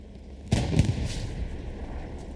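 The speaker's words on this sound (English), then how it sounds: "There's a really intense firefight going on the backside here." Gunfire and artillery in the World War II game Hell Let Loose: a sudden heavy blast and rattling shots from an intense firefight, then a rumbling, sustained distant din of battle.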